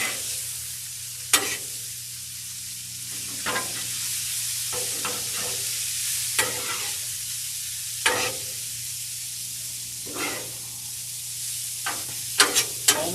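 Pizza pasta ingredients stirred with oil on a Blackstone griddle: a soft steady sizzle broken by repeated sharp scraping strokes of a spatula, close by.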